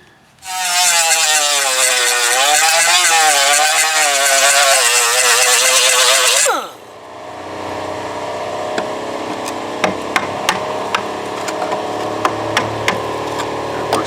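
An angle grinder's wheel bites into the metal of a 2001 Chevy Tahoe rocker panel with a loud, steady whine that wavers for about six seconds, then drops to a lower coasting hum marked by occasional sharp ticks.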